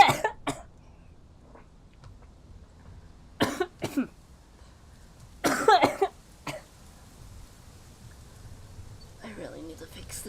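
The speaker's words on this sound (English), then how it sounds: "I really need to fix this cough." A single person coughs in several harsh bursts, close and fairly loud against a quiet room, with short gaps of near silence between them and a faint murmur of talk near the end.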